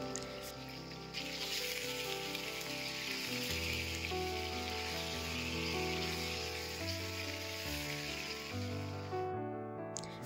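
Steady, dense sizzling of pointed gourd with salt and turmeric frying in hot oil, loud and close, continuing without a break for the whole stretch.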